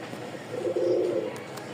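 Large Rajshahi Giribaz pigeons give a single low, throaty coo lasting about half a second, close by against a quiet indoor background.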